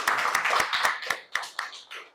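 Classroom clapping by a group of students, a quick run of sharp, fairly close claps that loosens into separate, spaced claps before tapering off.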